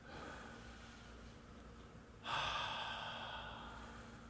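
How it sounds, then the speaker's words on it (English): People at a Shabbat service take slow, deep breaths: a soft, long inhale followed by a louder, breathy exhale, quiet and close with no talking. "Take a couple of deep Shabbos breaths"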